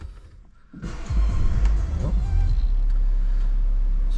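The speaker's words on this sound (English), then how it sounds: "So we'll hop in now and get the car started." A BMW F31 335d M Sport Touring diesel with 29,000 miles cranks over after a brief quiet moment and settles into a steady, loud idle with a low rumble that carries to the end.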